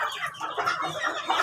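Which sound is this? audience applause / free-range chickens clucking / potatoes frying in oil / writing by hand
free-range chickens clucking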